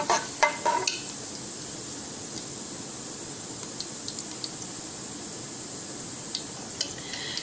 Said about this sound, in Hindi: इन सब को हम थोड़ा सा इसके अंदर ऑयल के अंदर रोस्ट कर लेंगे।